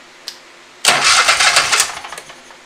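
A Kohler engine on a Scag Tiger Cub mower catches after a faint click, cranking briefly and then firing into a loud, close, ragged run that sputters and fades toward the end.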